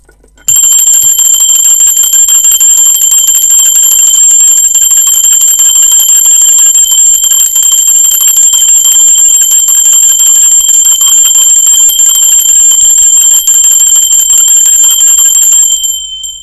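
A bell rings steadily during a tarot reading, one continuous bright metallic tone holding loud and close for about fifteen seconds before stopping abruptly, with no talking.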